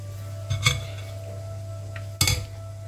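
Utensils clink and scrape against a bowl while chocolate is mixed, two distinct clattering strikes about two seconds apart over a steady low hum.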